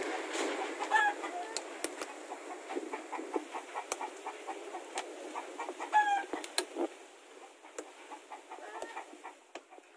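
Free-range chickens cluck and call in a scattered, irregular stream, moderately near, with a couple of short higher cries among them and faint background noise.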